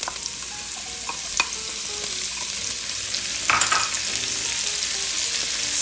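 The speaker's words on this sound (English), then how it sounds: "we're going to add in our carrots" Carrots frying in rendered bacon fat over medium heat for Manhattan clam chowder, a steady close sizzle with intermittent stirring clicks and scrapes, no voices.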